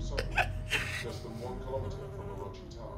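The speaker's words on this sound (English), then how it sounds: "Oh, there's a bee." A bee buzzes in the video game The Secret World, a thin, wavering drone under a person talking, with a few sharp clicks near the start.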